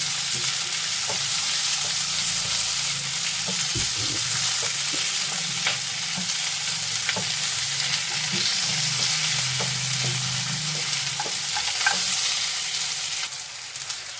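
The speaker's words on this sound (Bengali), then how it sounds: "সেই জন্য কিশমিশটা একবারে ভেজে নিলাম" Raisins fry steadily in hot oil in a pan for butter chicken, a continuous close sizzle with small crackles and occasional faint clinks of stirring throughout, no voices.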